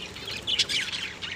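A red-vented bulbul gives short, sweet chirps and warbling notes, fairly close and clear over faint background hiss.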